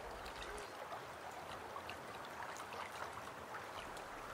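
The Tamar River in East Cornwall runs at dawn, a faint, steady trickling and burbling of water that carries on evenly throughout, with no voices.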